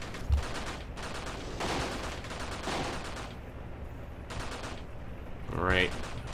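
RPK and AK rifle gunfire in Graviteam Tactics, a continuous rattle of automatic bursts at moderate distance, steady throughout, with a voice talking over it.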